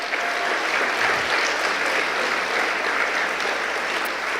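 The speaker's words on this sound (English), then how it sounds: "give you a huge round of applause" Audience at an environmental justice coalition's annual awards celebration applauds steadily, a dense, even wash of clapping from a large crowd that holds at full strength throughout.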